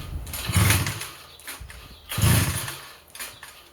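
A huge vintage two-man Mercury Kiekhaefer DA211 chainsaw, with a 180cc two-cylinder engine, is being started. Two loud, rough bursts sputter up about a second apart, each fading quickly, with no talking.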